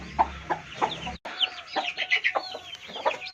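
A broody hen sitting on a clutch of eggs in a home hatchery gives soft, repeated clucks and low murmuring calls, close by with some brief higher chirps mixed in.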